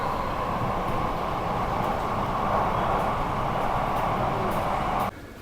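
A loud, steady rumble of a Mumbai underground metro train with a droning roar fills the space, continuous at speed, then drops abruptly to a quieter hum near the end.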